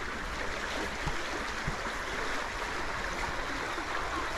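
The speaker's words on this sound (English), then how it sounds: "You can probably hear the water." A stream flows steadily outdoors, a continuous broadband rush of water with soft low knocks, moderately distant and unbroken, with no voices.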